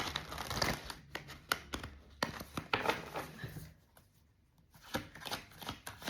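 Tarot cards are shuffled by hand at close range in a rapid series of crisp riffling, slapping bursts with short pauses between, quiet and without talk.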